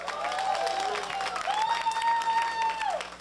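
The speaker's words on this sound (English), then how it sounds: "Give y'all a round of applause for coming out." A crowd at a live comedy show applauds steadily, with a sustained tonal whoop or whistle riding over the clapping before it eases off.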